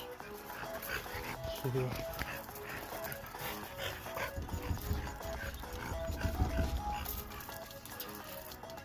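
Pet dogs barking and whimpering near outdoor bearded dragon enclosures, excited yelps and whines mixed with clattering, under a person talking.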